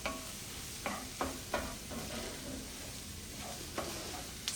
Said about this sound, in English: Give everything a good stir. Start getting this chorizo blended with these onions.